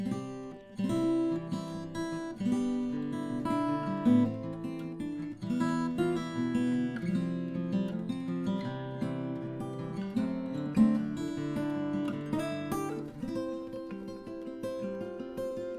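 Guitar picking a melody with finger rolls, a gentle fingerstyle passage of ringing plucked notes over a bass line, moderately quiet and unaccompanied.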